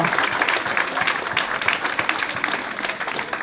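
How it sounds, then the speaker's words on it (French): Applause for a costume contest entrant: a crowd claps at moderate volume in a steady, slightly uneven patter throughout, fairly near. "applaudissez-le, allez-y"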